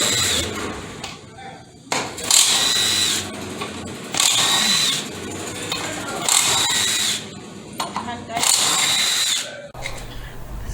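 Power tool bursts loosening the pan bolts on a Ford AOD automatic transmission, four distinct whirring runs of about a second each with short pauses between, close and loud.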